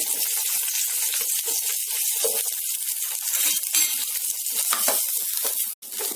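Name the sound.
onion, garlic and green chili frying in hot oil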